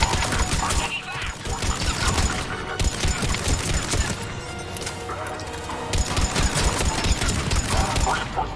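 Heavy battle gunfire from the video game Mass Effect 3, a loud, continuous barrage of shots and crashes with dense music or effects layered throughout.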